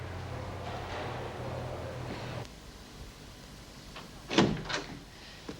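An indoor door opens without a knock in a prison drama scene, giving a short creak and clunk near the end after a steady hum cuts off, with no one speaking.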